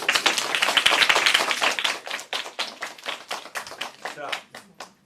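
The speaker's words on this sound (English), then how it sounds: "Give a round of applause." A round of applause at a mayor's event announcing new books for a universal literacy initiative: dense clapping from a crowd, loudest at the start and thinning into scattered separate claps by the end.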